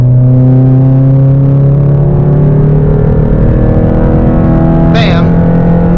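A 9th-generation Honda Civic Si engine revs loud and steady, its pitch climbing as it crosses into VTEC. A sharp rising whine cuts in near the end over the continuous drone.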